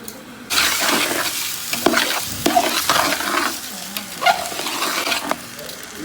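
Six glasses of washed rice frying in a pot for Palakkad-style chicken biryani, with a steady close sizzle and rhythmic scraping as a spoon stirs the grains, loud and uninterrupted by talk.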